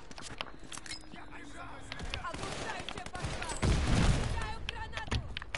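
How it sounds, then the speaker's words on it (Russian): Rapid gunfire and a burst of explosions from the World War II shooter Call of Duty: Vanguard, played on PS4, with crackling shots throughout and a heavier, louder blast near the end. "Передо мной все взрывается, глянь, подряд."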